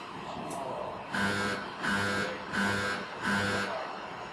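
A Nordson Asymtek SL-1040 dispensing machine pulses in four regular buzzing bursts, about half a second each, over a steady background hum.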